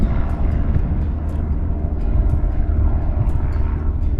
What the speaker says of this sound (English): And a plane.